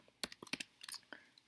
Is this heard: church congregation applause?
no